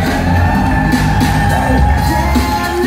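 Wedding guests cheer and whoop as a couple makes its entrance, a dense, loud crowd roar with yells, held steady throughout.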